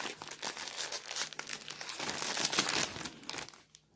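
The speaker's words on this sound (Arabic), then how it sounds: "نفتح الكيس دوت ونشوف" A crinkly Lulu Puffs snack bag is torn open and crumpled close by, with a continuous rustling, crackling plastic sound that swells toward the middle and stops abruptly at the end.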